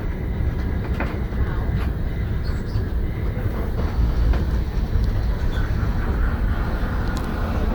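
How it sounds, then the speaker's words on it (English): London Tram 331, an electric tram, runs along the Crich Tramway with a steady rumbling roll and occasional clicks and knocks from the track, heard from on board at an even, moderate loudness. "Electric tram."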